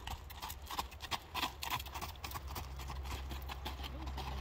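Horse cantering during a lameness exam, hooves beating in a steady rhythmic clip-clop at moderate distance, faint amid background noise.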